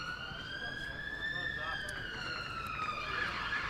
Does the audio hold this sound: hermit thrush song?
no